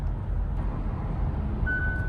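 A Hyundai Staria Lounge Limousine sounds its lane keeping assist warning, a short steady electronic tone that arrives late over low road and cabin rumble while driving.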